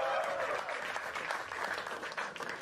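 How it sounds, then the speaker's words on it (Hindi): A studio audience at a comedy talent show claps for a comedian, a short burst of dense, lively applause that stays steady for a couple of seconds with no talking over it. "तो गुरसिमरन खंबा भाई के लिए एक बार तालियां।"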